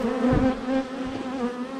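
Honey bees buzz loudly around an open beehive during a hive inspection, making a close, continuous droning hum that swells and fades slightly, with no talking.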